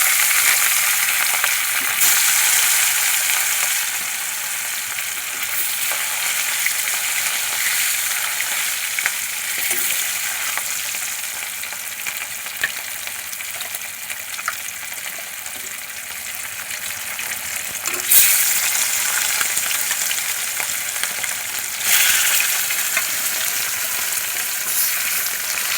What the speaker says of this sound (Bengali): তেল ভালো করে গরম হয়ে গেছে, এবারে সব মাছগুলো ভালো করে ভেজে নেব